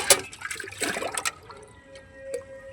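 Water splashes and gushes out of a small bucket onto rooftop garden plants, a short burst of pouring followed by fainter trickling, close by with no talk.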